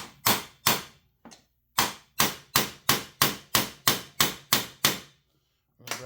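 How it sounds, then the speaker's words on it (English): Steel hammer blows drive a T27 Torx bit into a stripped Allen head screw on a Husqvarna 288 XP chainsaw: two sharp strikes, a pause, then nine evenly spaced loud, ringing hits. "Drive that T27 bit in the strip Allen head."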